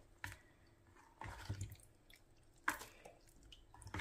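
Fresh coriander is swished and squeezed in a bowl of water, giving soft, intermittent wet splashes and drips, three or four distinct bursts with quiet gaps between them, close and faint.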